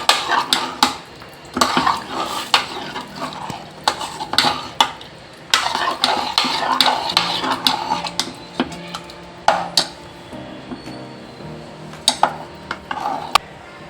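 Bisi Bele Bath being stirred in a pot with a spoon, bringing repeated scraping and clinking of utensil against metal in an irregular rhythm, close and moderately loud, with no voices.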